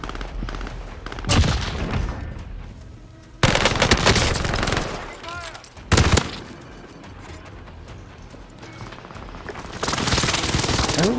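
Gunfire in the video game Call of Duty: Modern Warfare, with rapid automatic bursts and sharp shots that come in several loud waves separated by quieter stretches of game ambience, and a player's voice heard briefly.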